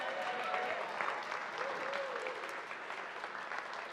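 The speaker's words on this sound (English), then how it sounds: "Keep clapping for a minute there" Audience clapping at a September 2018 meditation gathering: a dense, continuous wash of applause from a crowd that fades slightly toward the end, with a faint voice underneath.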